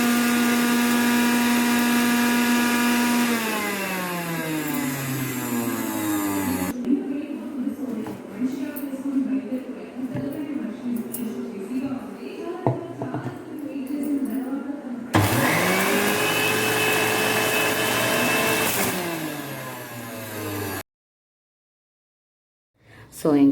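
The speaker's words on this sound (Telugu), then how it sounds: "జ్యూసర్లో క్యారెట్లు, అల్లము, మింటు 3 కలిపేసి మిక్స్ చేసుకొని జ్యూస్ చేసుకుంటున్నాను" A kitchen juicer blends carrots, ginger and mint, its motor whining loudly, spinning down and surging again in bursts, then cutting off to silence near the end.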